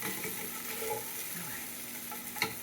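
Shrimp sizzling and frying steadily in a hot pan, with a brief scrape and clatter near the end as they are turned, close and continuous with no talking.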